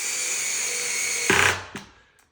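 Power drill driving screws into a height-adjustable table during assembly, a loud close whine that stops abruptly, followed by a short second burst, with no talking.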